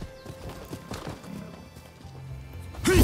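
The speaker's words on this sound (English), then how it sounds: "So it looks like we can actually use the horse in this game." Horse hooves clip-clop at a gallop through the Rise of the Ronin video game world, then a loud whinny rises sharply at the end, with no talking.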